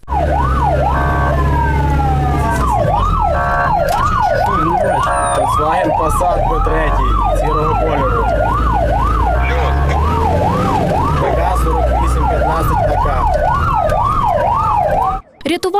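A fire engine siren wails through slow city traffic, its rising and falling yelp cycling loudly and continuously over engine rumble close by for most of the clip before cutting off at the end.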